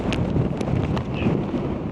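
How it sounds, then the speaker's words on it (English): Wind gusts at a craggy wild-camping pitch in the Lake District, roaring steadily against the microphone as a loud, low rumble with a few brief higher rattles, no voices. "you can feel the wind a bit more now"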